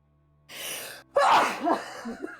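A single sharp sneeze bursts out nearby after a brief intake of breath, followed by a short vocal trailing sound in a quiet room.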